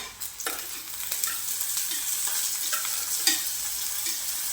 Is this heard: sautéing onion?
yes